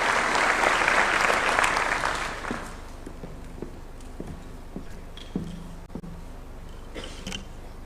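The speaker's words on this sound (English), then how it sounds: "Let's give him a clap as he's coming." Audience applause at a youth employment event at Kenya's State House, loud broadband clapping for the first two and a half seconds, then fading into scattered claps and footsteps-like taps.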